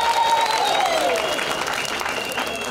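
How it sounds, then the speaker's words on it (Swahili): A crowd at a community gathering cheers and ululates, with a dense wash of clapping and voices and a high, wavering trill gliding downward over the noise early on. "mujipigie vigelegele wa ndugu."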